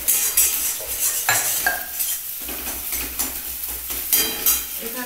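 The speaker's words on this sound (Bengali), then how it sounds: "ডিমটাকে আমি একটু ভুজিয়া টাইপের মতো ভেজে নিচ্ছি।" Egg frying and being stirred into a bhujia-style scramble in a pan, loud close sizzling with repeated clinks and scrapes of a metal spatula against the pan.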